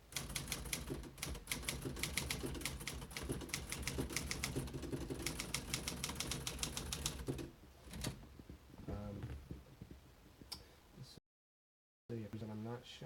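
A 1958 Remington Quiet-Riter Eleven manual typewriter clacks in rapid, dense keystroke bursts for several seconds, then slows to scattered strokes and brief carriage noises, with someone talking over it.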